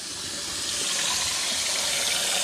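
Hot tap water runs into a greasy pan at a home sink, a steady hissing stream that grows slightly louder, with no talking.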